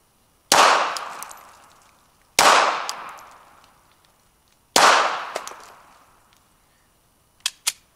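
Three sharp Glock 42 pistol shots fired at cans outdoors, evenly spaced about two seconds apart, each with a long ringing decay, followed by two faint clicks near the end.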